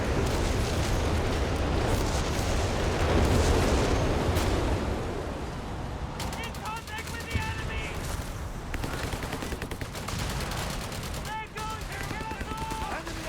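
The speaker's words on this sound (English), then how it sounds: "Creeping barrage out the back from the walking Stuka, it sounds like." Artillery barrage in Company of Heroes 3, a dense roar of repeated explosions and gunfire that fades into a scattered rattle of distant shots and impacts, with a voice talking over the battle.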